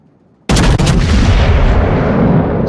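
A battleship's main guns firing in a naval video game, one sudden loud close boom with a quick secondary crack, followed by a long rumbling roar that slowly fades.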